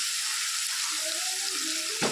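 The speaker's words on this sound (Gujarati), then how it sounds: "લસણ અને ડુંગળી નાખીશું. સરસ પહેલાં શેકી લઈએ." Garlic and onion fry in a pan with a steady, bright sizzle that stays even throughout, ending in a short soft knock near the end, with no one speaking.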